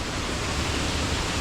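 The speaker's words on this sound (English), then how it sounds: "this is the best time to come to a waterfall because the water will be flowing when it's raining" Water pours steadily down the Nam Muang 2 waterfall during the rainy season, a dense, continuous broadband rush close by with no pauses and no voices.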